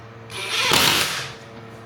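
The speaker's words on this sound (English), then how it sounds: "I'm just going to drill the brackets in there." A power drill bores bracket holes into a wall while fitting a radiator: one close, loud burst of roughly a second, winding down, then a sharp knock.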